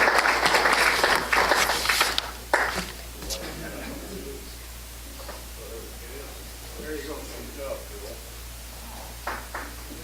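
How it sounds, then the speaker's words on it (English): A Lions Club meeting audience applauds, a loud burst of many hands for about two seconds that then fades into scattered claps and quieter room noise, with faint voices afterward. "let's give them a hand of applause"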